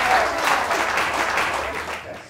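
Audience applause after a magic card trick, a sustained burst of clapping from a crowd that stays full and steady before easing off at the end.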